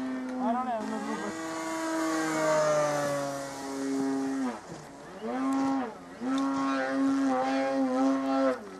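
A small radio-controlled propeller plane drones steadily near the ice, its engine whine rising and falling in pitch as it passes and turns, sustained and fairly loud for several seconds.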